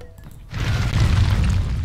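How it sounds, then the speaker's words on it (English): Buildings collapsing from an earthquake ability in the strategy game Idol Hands, a sudden deep rumbling boom that rolls on as a loud, sustained crumbling roar, with no talking. "I destroyed three buildings with the earthquake ability"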